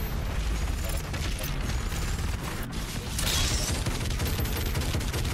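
Gunfire in the Doom Eternal video game, a steady stream of rapid shots and impacts over rumbling combat noise, fairly quiet overall with a sharper crack partway through.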